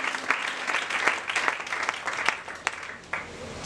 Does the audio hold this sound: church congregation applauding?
yes